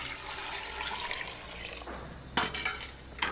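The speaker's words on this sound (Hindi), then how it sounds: "थोड़ा सा डाल देंगे इसमें पानी उबालने के लिए" Water poured into a cooking pot of potatoes and kidney beans, a continuous splashing trickle that shifts into a sharper, louder pour near the end.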